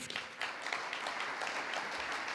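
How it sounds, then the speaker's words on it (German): Applause from an audience at a German party political speech, dense clapping that swells and holds steadily loud across the short stretch. "Applaus"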